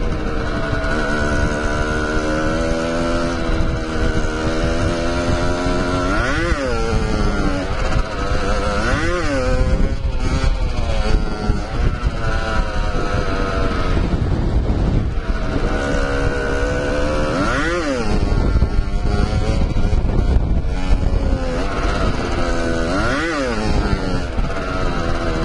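A Beta 50 RR 50cc motorcycle ridden after repair, its small two-stroke engine buzzing loudly and continuously, rising and falling in pitch through gear changes and revs, with wind noise over the microphone.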